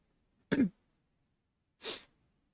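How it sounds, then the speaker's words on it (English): Two short, separate throat-clearing bursts about a second apart, fairly close and otherwise quiet in between. "And I keep clearing my throat."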